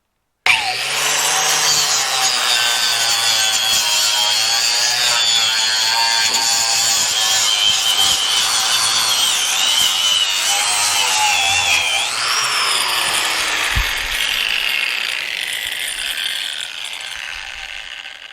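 A knotted wire wheel on a power tool strips paint from the steel front scuttle panel of a 1955 Triumph TR2, a loud, steady, close grinding whine lasting throughout before tapering off near the end.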